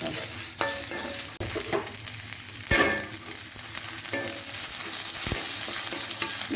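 Cabbage and onion frying in a pan for chutney are stirred, with a steady close sizzle broken by a few scraping knocks of the spoon.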